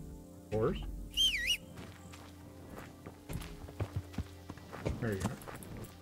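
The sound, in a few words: horse hooves clip-clopping in a video game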